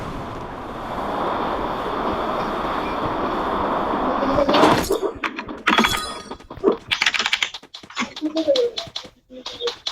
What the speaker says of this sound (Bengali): ট্রেনটা